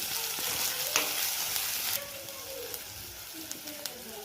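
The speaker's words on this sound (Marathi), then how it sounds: "थोडा वेळ परतून घ्यायचा आहे आपल्याला तेलामध्ये" Brinjal fries in hot oil in a pan for bharit. A soft, steady sizzle runs throughout, with occasional clinks and scrapes of a spoon stirring close by.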